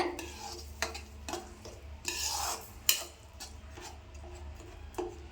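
A spoon stirs garlic pickle in oil over a low flame in a pan, giving repeated close scraping strokes and clinks against the metal over a soft, steady sizzle.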